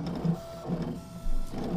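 Brother ScanNCut CM900 cutting machine slicing paper, a steady mechanical whir with rhythmic motor pulses and carriage movements, moderately close and alone without speech.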